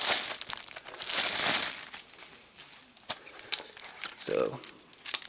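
Crinkling plastic wrap on a Humblewood D&D 5e campaign box set, with a loud burst of rustling early on, then scattered crackles and handling noises while a person talks briefly.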